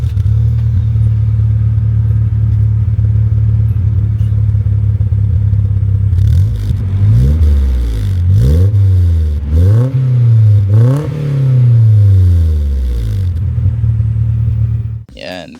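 A Nissan 240SX with an HKS exhaust idles with a deep steady drone, then revs up several times in quick rising and falling bursts through the throaty exhaust before settling back to idle.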